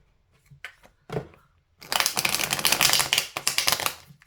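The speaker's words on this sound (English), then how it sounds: "Some nice smooth shuffling." Tarot cards are shuffled by hand in a few short riffles, then a longer run of rapid, crisp flutters close to the microphone, with nails clicking against the deck.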